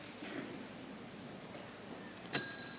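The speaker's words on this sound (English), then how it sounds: "There's the bell." A small bell rings once at a gymnastics meet, signalling the floor exercise time limit during a 1982 USA–USSR men's competition, a brief bright ding near the end over a quiet arena murmur.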